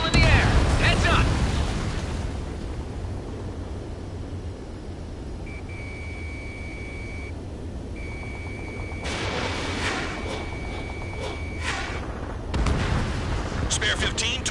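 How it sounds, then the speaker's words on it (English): Anti-aircraft gunfire and explosions in the combat flight game Ace Combat 7, dense rumbling booms and bursts with cockpit warning beeps, loud and continuous, under a voice talking. "Trigger's taking out one of the AA guns. Missile in the air"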